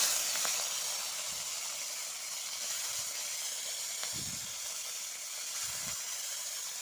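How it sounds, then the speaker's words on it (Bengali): Mourala fish frying in hot oil in a home kitchen, a steady, moderately loud sizzling hiss that runs throughout, with a few soft low thuds and no talking. "তেল গরম হয়ে গেছে এবারে মাছগুলো ছেড়ে দেবো"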